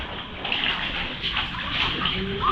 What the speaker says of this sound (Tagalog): Ayan, naliligo sila sa faucet.